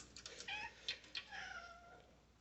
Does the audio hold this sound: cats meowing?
yes